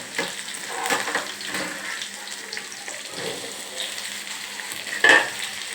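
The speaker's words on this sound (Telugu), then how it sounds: "ఆటోమేటిక్గా బంగాళదుంపలు మనం వేపుకుంటాం కాబట్టి అది కూడా వేగిద్ది" Potatoes frying in hot oil in a home kitchen, a steady close sizzle with occasional stirring scrapes and a sharper clink near the end, no talking.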